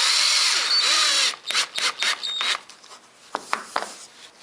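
A power drill drives drywall screws into a wooden workshop cabinet: a loud sustained whine for over a second, then several short bursts as the screws seat, close and without talk.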